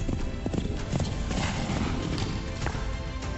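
Horse hooves clip-clop in a steady rhythm with a neigh, part of a Kentucky tourism radio ad, playing loudly and continuously with no talk over them.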